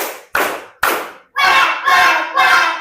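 A class plays a counted clap game, striking three crisp group claps in a steady beat, then chanting three loud rhythmic calls together.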